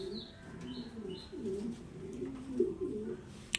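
Kaldom pigeons give soft, repeated throaty coos in a close, quiet coop, with a few faint chirps and a brief flutter at the end.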